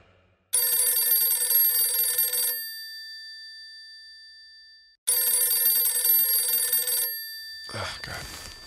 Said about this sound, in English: She slept in my arms until the phone awoke me at 8 a.m.